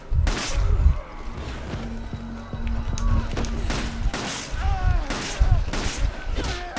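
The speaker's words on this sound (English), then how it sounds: "Ooh, shot him in midair." Gunfire in Resident Evil 5, with several sharp shots and impacts scattered through a busy stretch of game action, mixed in with voices and other effects.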